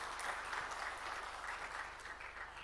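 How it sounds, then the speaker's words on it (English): An indoor training-event audience bursts into steady, dense applause that holds at an even level throughout, with a faint voice or two mixed into the clapping. "Give a big round of applause to all of you."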